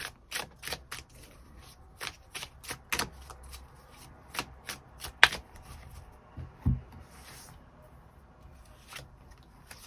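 Tarot cards being shuffled for a love reading, a run of crisp riffling snaps and soft rubbing bursts, close and fairly quiet, with no talk.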